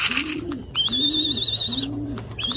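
Racing pigeons coo in a loft in soft repeated phrases, steady and close, while high chirps from other birds come and go over them.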